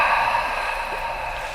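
A steady breathy whoosh, made by a voice exhaling to imitate the sea-like rush heard in a seashell during a breathing exercise, even and close.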